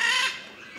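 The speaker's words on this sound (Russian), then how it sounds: "А вот этот попугай ара называется желто-синий." A blue-and-yellow macaw in a zoo in Adjara, Georgia, gives one short, harsh, loud squawk that fades quickly.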